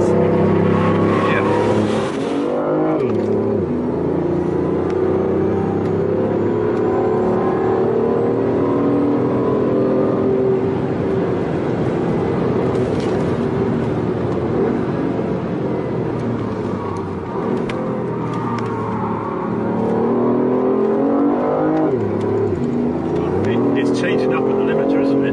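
A 2014 BMW i8 engine revs hard and upshifts at the rev limiter, rising pitch sweeps broken by several sharp shift dips across a sustained drive, loud inside the cabin with people talking over it.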